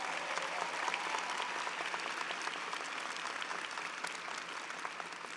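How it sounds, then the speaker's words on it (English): A commencement audience at Baruch College's 2019 graduation applauds steadily, a dense, even wash of many hands clapping that holds at a constant level throughout, with no voices standing out. "Let's have a round of applause for them as well."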